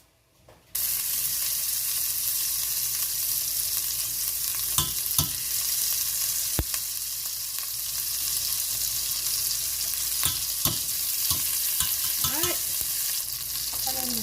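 Garlic, basil and onion fry in olive oil in a pan, a steady loud sizzle from start to finish broken by a few sharp spatula scrapes and clicks, with no talking.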